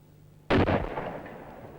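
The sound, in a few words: rifle round fired by a marksman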